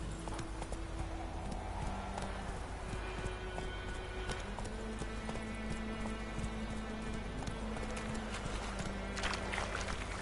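Hooves of Roach, the horse in The Witcher video game, clip-clopping in a steady rhythm over several seconds, close and clear, with faint background ambience and no speech.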